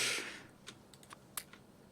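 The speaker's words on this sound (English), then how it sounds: "You're typing too fast." Fast, excited typing on a computer keyboard: a few sparse, quick key clicks at close range after a brief burst of noise, fairly quiet and without speech.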